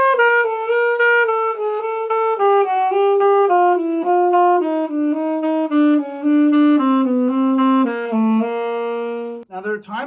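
Saxophone plays a descending scale in classic jazz articulation, with repeated notes and ghosted pairs, giving a steady, clear, close run of tones alone for about ten seconds.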